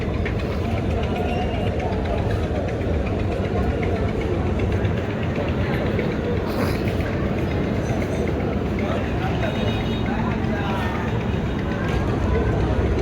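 A small passenger launch coming in to the Barishal ghat on the river, its engine a steady, loud, broadband drone that runs unbroken throughout, with busy background noise around it.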